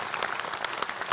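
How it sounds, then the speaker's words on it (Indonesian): Audience applause at a live Jakarta community event, a dense, steady patter of many hands clapping at moderate level throughout the short moment. "Tepuk tangan dong buat Bu Iin"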